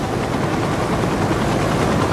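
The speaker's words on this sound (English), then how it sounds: "The first helicopter stayed to illuminate the scene." A rescue helicopter hovers over a river at night, its steady rotor roar dense and close, filling the short stretch without pause.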